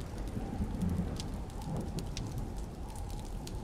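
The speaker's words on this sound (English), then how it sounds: "to the clamor of the storm outside" Storm sound effect for a radio drama, with steady rain pattering and a low thunder rumble underneath, continuous and fairly quiet, with no speech.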